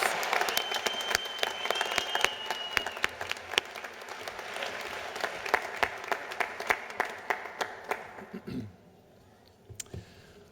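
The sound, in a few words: applause for nursing graduates at commencement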